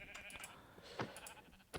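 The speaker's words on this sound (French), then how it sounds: "il y a des moutons autour de nous" Sheep bleating in Minecraft, a few faint, short bleats spread across the moment, with no talk over them.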